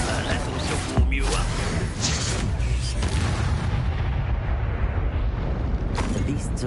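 Fire spells Confringo and Incendio exploding in the Hogwarts Legacy video game: a sharp booming blast near the start, then dense continuous roaring, crackling fire and impacts, with a voice speaking over the din.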